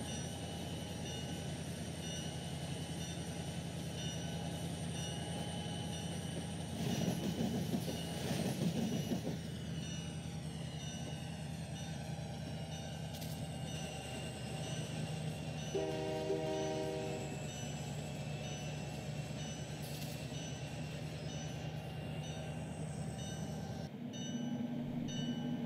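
Train running in Trainz 12, a local freight operation at Sebring: a steady rumbling engine drone with rolling wheel noise, a brief horn-like tonal blast partway through, and a sudden drop near the end, with no talk.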